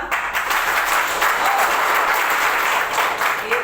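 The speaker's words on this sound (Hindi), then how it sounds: "डीएक्सन के लिए जोरदार तालियां।" Loud audience applause fills a DXN business seminar hall, a dense steady wash of many hands clapping close and sustained throughout with no talk over it.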